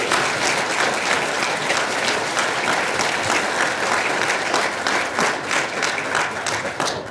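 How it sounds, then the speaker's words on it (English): A banquet audience at an annual chamber awards event gives the volunteers a brief, loud round of applause, steady dense clapping from a crowd that continues evenly throughout. "A round of applause for those volunteers real quick."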